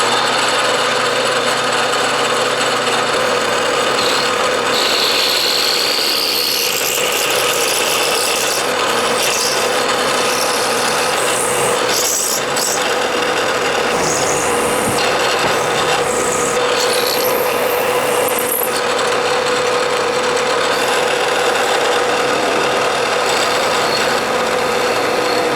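A Bridgeport milling machine cuts a slot for a hammer handle. A continuous, close, loud grinding rasp of cutter on metal sits over a steady motor hum, with scraping shifts in texture, and no talking.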